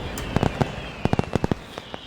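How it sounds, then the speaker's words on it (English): Fireworks bursting after a run scores in the 8th inning of a baseball game, a string of sharp cracks and pops in two quick clusters over a low crowd hum, fairly close and loud. "That's gonna get some fireworks going."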